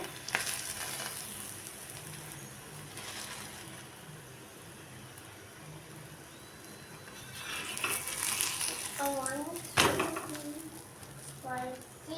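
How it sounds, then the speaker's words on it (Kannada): Potatoes fry in a pan for aloo paratha filling, a soft ongoing sizzle with occasional stirring, while a voice chatters in the background near the end. "ಚೆನ್ನಾಗಿ ಫ್ರೈ ಮಾಡ್ಕೋಬೇಕೀಗ ಆಲೂನ"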